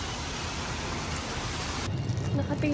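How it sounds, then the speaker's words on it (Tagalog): Rain falls steadily in Kaohsiung, Taiwan, a dense even hiss filling the whole clip, close and constant, with a faint shift in the background near the end. "Kasi umuulan."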